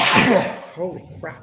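A single loud sneeze bursts out close by, followed by a person speaking briefly.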